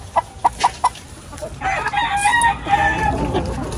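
A few short clucks from nearby chickens, then a busier stretch of overlapping clucking and squawking calls.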